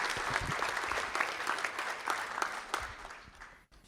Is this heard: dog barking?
no